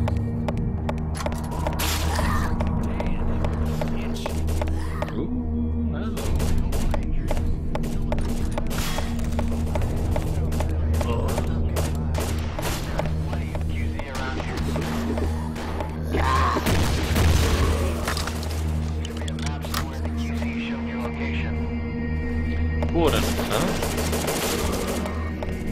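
Shotgun blasts from the double-barrel boomstick in the zombie shooter BrainBread 2, heavy booms scattered across a dense, constant rumble of game noise and other gunfire, loud and close throughout.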